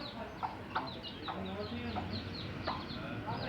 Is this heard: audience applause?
no